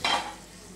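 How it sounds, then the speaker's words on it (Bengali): Ground spices sizzle sharply in a hot pan for aloo dum as a little hot water hits them and they are stirred. The burst is brief and close, then fades quickly. "এবার আমি মশলাটাকে কষিয়ে নেব, তার আগে অল্প একটু গরম জল আমি মশলার উপর দিয়ে নেব"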